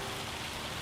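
Rain falls steadily in the Farming Simulator 25 video game, a dense, even patter filling the whole moment with no talk over it.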